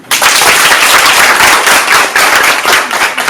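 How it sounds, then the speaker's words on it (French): Loud, sustained applause from an audience cheering a top-ranked student, dense clapping filling the whole stretch with only a brief dip near the middle. "Applaudissez pour lui."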